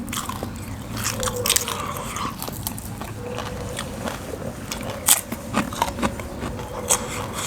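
Crunchy bites into crispy deep-fried pork leg, served with spicy Thai pounded salad, give a steady run of close crackling chews and crunches with sharper snaps near the five-second mark.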